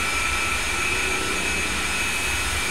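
Steady, unbroken jet-engine roar from an A-10C Warthog heard from afar in the DCS flight simulator, a constant whine layered over a broad rushing hum with no breaks or voices.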